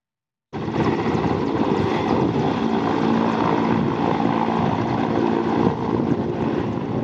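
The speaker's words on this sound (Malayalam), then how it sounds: "അപ്രതീക്ഷിതമായി മലമ്പുഴ ഡാം പരിസരത്തേക്ക് ഹെലികോപ്റ്റർ പറന്നിറങ്ങി" Air Force helicopter flying in to Malampuzha dam to collect water in bambi buckets for fighting a forest fire: a sudden, loud, steady rotor and engine roar that holds unbroken for several seconds, with no talking.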